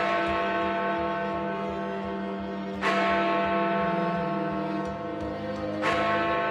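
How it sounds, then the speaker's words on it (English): Big Ben, the great bell in London's Elizabeth Tower, struck by its hammer: two loud, deep strikes a few seconds apart, each blooming into a long, rich ringing hum that sustains between blows, with no talking. "It works very similar to the chiming train, but this time we're only ringing 1 bell."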